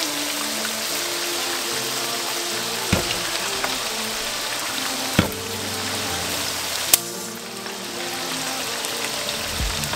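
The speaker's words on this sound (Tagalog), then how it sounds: "Ilalagay ko na rin po yung ating soy sauce." Soy sauce goes into a hot pan of kiampung rice mixture, bringing a steady close sizzle and frying hiss with a faint liquid trickle and a few sharp clinks of utensils against the pan.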